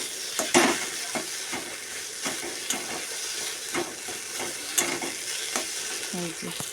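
Loitta fish (Bombay duck) sizzle steadily as they fry in a pan, with a soft constant hiss broken by a series of utensil scrapes and taps while stirring.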